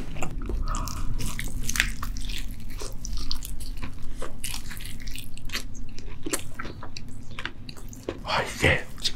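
Close biting and crunchy chewing of extra-spicy fried chicken drumsticks, loud wet crunches and chomps repeating throughout, with people talking over the eating.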